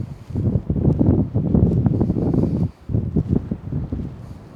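Strong seaside wind at Reculver Towers buffets the microphone in loud, gusty rumbling bursts with a brief lull partway through, beside choppy sea.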